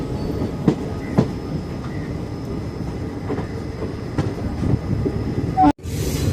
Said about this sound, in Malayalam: അങ്ങനെ നമ്മുടെ അമൃത എക്സ്പ്രസ് അങ്ങനെ രാമേശ്വരത്തേക്ക് എത്തിക്കൊണ്ടിരിക്കുകയാണ്